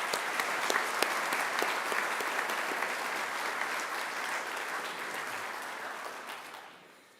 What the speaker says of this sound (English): Please let us have another round of applause to thank Professor Hugh Garrett-White.